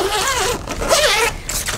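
A zipper on the interior divider of a Samsonite Inova hardside spinner suitcase is pulled in a few quick, close, loud rasping strokes with brief pauses between them.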